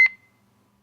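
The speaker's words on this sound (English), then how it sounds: "it will be indicated by a beeping sound" A single short, high electronic beep, then near silence, with another beep just starting at the end.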